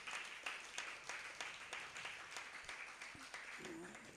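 An audience at a Chaturmas religious katha gathering in Surat claps in a steady, rhythmic beat of evenly spaced claps, moderately loud, with a voice faintly underneath.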